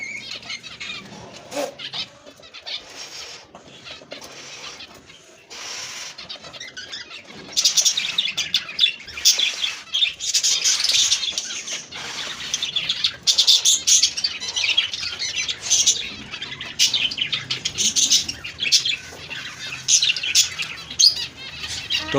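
Dense chorus of cockatiels chirping and squawking from a breeding colony of nest boxes, continuous overlapping calls that grow louder and busier partway through, with occasional wing flutters.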